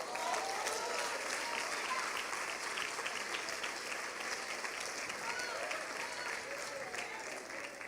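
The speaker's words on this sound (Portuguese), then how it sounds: "Pode aplaudir a Jesus" A church congregation applauds during a sermon, a continuous even patter of many hands clapping at moderate distance, sustained throughout.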